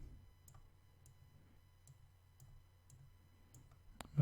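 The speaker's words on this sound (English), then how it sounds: "Just double clicking and adding some nodes." A computer mouse clicks at a steady pace while nodes are added to a drawing in Inkscape, sharp close taps about every half second over a quiet hum, ending in a louder knock.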